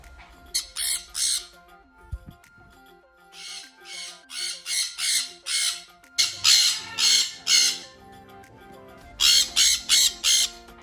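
Loud, harsh parrot squawks repeat in rapid runs, several shrill calls in a row, pausing and starting again, close by with no talking.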